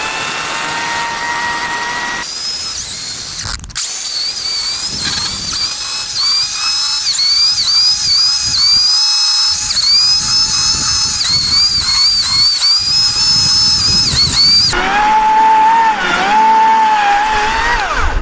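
A GTM 56V cordless chainsaw rips lengthwise through oak, its motor whining steadily and loudly under load with brief dips in pitch, then revving up higher near the end.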